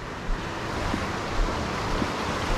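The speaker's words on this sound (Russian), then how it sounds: "у нас течет горная река, ручеек" A mountain river in Norway flows with a continuous, fairly loud rushing hiss of water, steady throughout with slight surges and a breezy wind-like wash.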